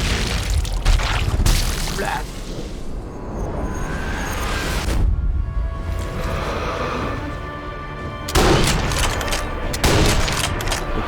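Sharp sniper rifle gunshots crack out in the video game Sniper Elite V2, a couple of loud reports separated by seconds of rumbling background noise, with no talking.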